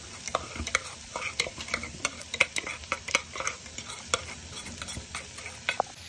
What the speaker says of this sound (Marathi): आणि शेंगदाण्याचं कूट आपण चांगल्या प्रकारे मिक्स करून घेणार आहोत भेंडीमध्ये